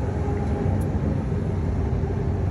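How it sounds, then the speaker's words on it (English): Road traffic rumbles close by as a steady, dense low-frequency wash of passing vehicles, loud and unbroken for a few seconds. "Sorry about all the road noise, I'm kind of close to the road here."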